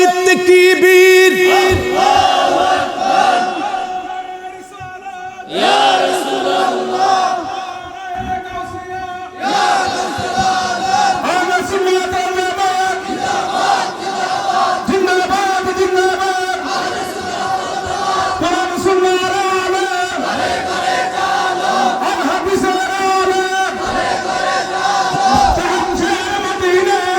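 A large crowd at a religious gathering chants takbir in loud, sustained unison, with a break and then repeated surges of voices, close and continuous throughout.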